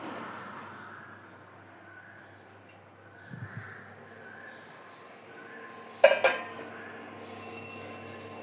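Lid placed over a pot of tea leaves steeped in boiling water, a quiet kitchen hum broken by a brief clatter and then a sharp metal clank as the lid settles, followed by faint rattles.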